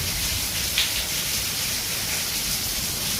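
Steady rain hissing down outside a house, a dense, even wash of drops with a faint tap near the start, no voices.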